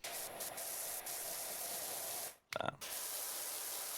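A pressure washer in PowerWash Simulator 2 sprays a steady, loud hiss that cuts out briefly near the end, then restarts with a short sputter and keeps going.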